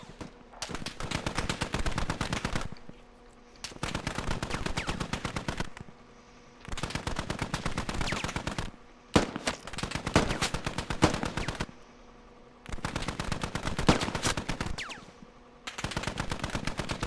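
Machine gun fire in a war game tutorial, long sustained automatic bursts of several seconds each separated by short lulls, loud and close, with one sharp single report in a pause.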